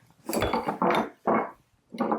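Ice cubes clatter into a glass for a gin cocktail in several distinct close bursts with short pauses between them, loud and clear with no talking.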